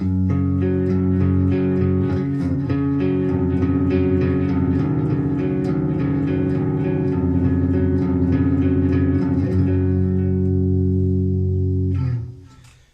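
Clean electric guitar chords on a Washburn V260 Parallaxe Flying V ring out with a warm, spacious reverb and echoing delay, sustaining steadily before fading out at the end.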